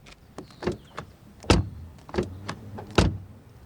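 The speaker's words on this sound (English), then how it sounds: "First of all, door closing sound." Doors of a BMW M135i F40 hatchback produce several solid thuds spaced about a second or so apart, each with a short sharp attack and quick decay, heard close up with lighter clicks and taps between them.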